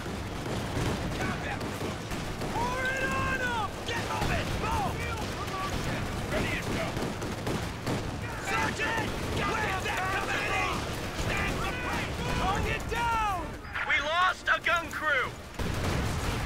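Battle fire around a defended fighting position in Company of Heroes 2, a dense continuous rumble of gunshots and distant explosions under shouted voices and in-game callouts throughout.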